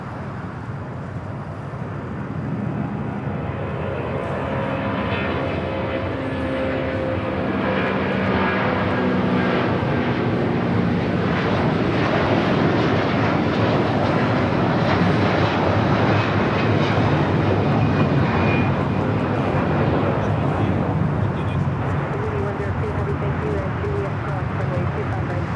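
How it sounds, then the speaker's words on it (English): A Hawaiian Airlines Airbus A330 taking off from runway 25 right at Los Angeles International Airport bound for Maui, its engine roar swelling from a moderate rumble to a loud, sustained thunder that holds steady through the roll. "Got a Hawaiian A330 now rolling down at 25 right. This flight taking off to Maui, Hawaiian Airlines"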